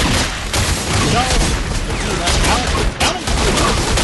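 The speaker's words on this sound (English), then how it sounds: "oh, I'm being shot at" Gunfire from the video game The Godfather II rattles continuously as a dense, loud barrage of shots, with a brief dip near the three-second mark.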